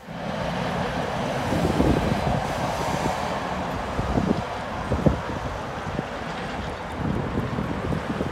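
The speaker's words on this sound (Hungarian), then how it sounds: "Közben megjött a vonat Püspökladány felől" A train arriving from the Püspökladány direction rumbles past under steady, broadband wind-like noise, with irregular clunks and thumps from the rails throughout.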